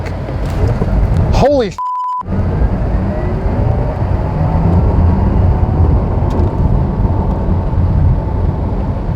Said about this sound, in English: Foot on the brake. Accelerator to the floor. Launch control activated.